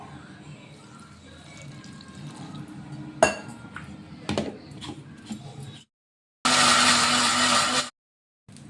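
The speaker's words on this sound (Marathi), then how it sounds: "आता याला छान मिक्सरमध्ये बारीक करून घ्यायचं आहे" A mixer grinder blends chutney spices, including amchur powder, with a little water, running in a single loud, steady burst of about a second and a half after softer kitchen clatter and clinks.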